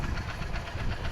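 A motorcycle engine runs on a floating bridge across a baor lake, giving a brief, continuous rough rumble with a knocking texture, close and fairly loud.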